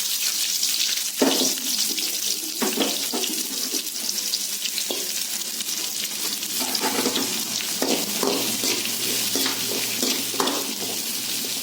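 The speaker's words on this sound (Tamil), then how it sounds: "சட்டியில் கொஞ்சம் எண்ணெய் ஊற்றிக்கோங்க. அதில் வெங்காயத்தை போட்டுக்கலாம்." Onions sizzle steadily in hot oil in a kadai for a chickpea kuzhambu, a continuous close hiss broken by scraping stirs and occasional clinks of the spoon against the pan.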